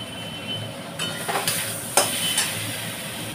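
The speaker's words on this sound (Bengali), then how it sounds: "তো চলো এর মধ্যে এবার জল ঢেলে দেবো" Water is poured into spice paste frying in oil in a kadai, a sudden hissing sizzle in short bursts over a steady frying background, close by, with no talking.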